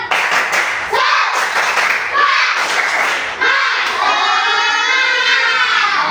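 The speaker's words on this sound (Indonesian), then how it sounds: "Tepuk semangat." A classroom of children chanting and clapping the 'tepuk semangat' spirit clap in a religious studies lesson, loud rhythmic claps and thumps mixed with shouted group voices, a teacher's voice leading.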